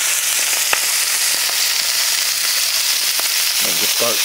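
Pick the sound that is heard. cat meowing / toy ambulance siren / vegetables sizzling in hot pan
vegetables sizzling in hot pan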